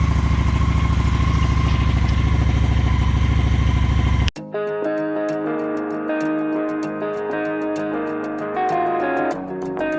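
Honda Shadow 750 motorcycle engine, a loud steady drone that cuts off abruptly partway through, followed by a changed, rough idling tone with a harmonic buzz that holds to the end.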